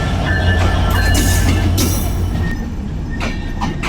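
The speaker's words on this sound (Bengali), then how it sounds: "এই যে ট্রেন ঢুকতেছে।" The Drutojan Express rolls into a small station, a loud steady rumble of wheels on rails with sharp clattering bursts and a faint squeal, close by and without voices.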